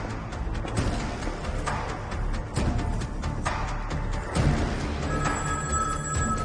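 A telephone rings in a tense Indian spy-thriller film scene, with repeated ring bursts over a busy background of movie sound effects and score, fairly loud and close.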